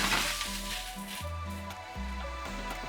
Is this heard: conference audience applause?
no